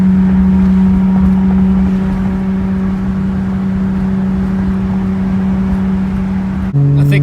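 A Toyota Supra with a 1JZ engine cruises in third gear with a steady droning engine hum and road noise inside the cabin, rolling gently into the throttle, with a brief shift in pitch near the end.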